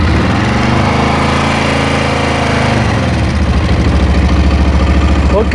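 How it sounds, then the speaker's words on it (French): A new motorcycle engine runs loud and close in a steady idle, then its pitch drops and settles into a slower, heavier, throbbing rhythm. "Maintenant, on démarre la moto."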